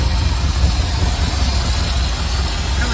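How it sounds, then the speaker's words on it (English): Ford F-100 pickup engine idling with a vacuum leak, a steady loud low rumble with a constant hiss over it, close and continuous throughout. "So I've got this vacuum leak."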